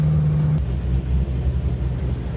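A V8-swapped Hyundai Genesis Coupe on the road, its engine a steady low rumble with a constant droning hum throughout, close and loud with no talking.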